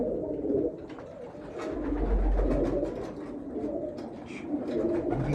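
Bankay pigeons coo in a low, continuous murmur, with soft overlapping calls close by and a faint rustle in the background.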